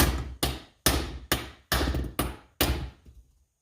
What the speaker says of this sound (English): all I'm doing is hitting that nut using this wood